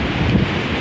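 Wind and ocean surf on Cape May Beach, New Jersey, a loud, close, steady rush of wind buffeting the microphone over a broad wash of water.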